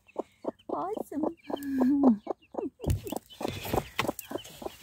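A hen with three newly hatched chicks clucks in a series of soft, repeated calls close by, with a drawn-out trill in the middle and a person speaking softly alongside.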